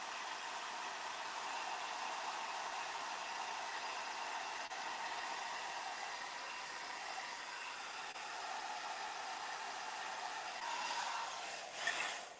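A hair dryer blows steadily over the icing on a gingerbread house, a continuous close whooshing hum running throughout without talk, with a brief rustle and clatter near the end.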